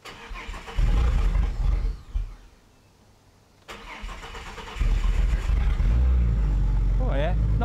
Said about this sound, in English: we're going to fire it up and see what it sounds like with no exhaust